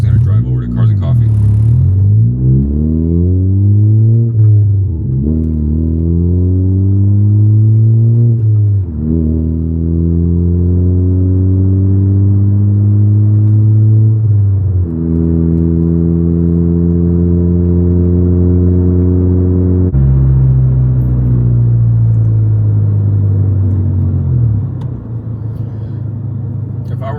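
A 10th generation Honda Civic Si drives along the road. Its engine note climbs steadily in pitch through each gear and then drops sharply at each of several shifts, with a loud, close, continuous hum and rumble inside the cabin.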